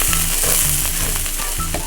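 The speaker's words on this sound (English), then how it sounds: "Onions are cooking up nicely." Onions fry in a pan with a close, loud, continuous sizzle and crackle, with faint scraping stir sounds and no talk.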